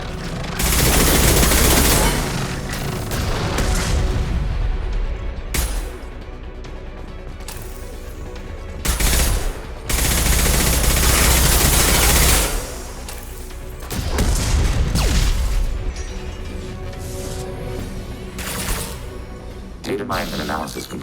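Turret gunfire in Mass Effect 2 rings out in loud, dense bursts of rapid shots, swelling and easing over about twenty seconds amid a busy game soundscape, with a synthetic voice speaking at points.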